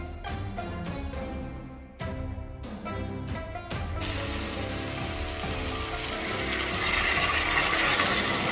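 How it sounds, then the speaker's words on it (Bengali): Water boiling hard in a pot on the stove for a thin curry, a dense, even bubbling rush that holds steady and grows slightly louder, following a short stretch of music. "আমার তরকারির জন্য জলটা রেডি, জলটা ফুটে গেছে"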